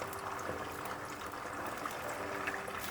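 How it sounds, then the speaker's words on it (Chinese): Marinated beef pieces frying undisturbed in moderately hot oil in a wok, giving a steady, soft, continuous sizzling hiss with faint scattered crackles throughout, fairly quiet and with no talking. "油温3到4成热，将腌好的牛肉倒进来"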